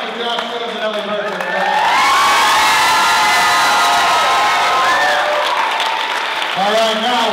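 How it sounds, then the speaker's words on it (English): A school crowd applauds and cheers loudly at an event honoring Josh Jones, with sustained clapping, shouts and whoops rising after a brief announcement and continuing to the end. "So let's give a big round of applause to Josh Jones and Ellie Burke."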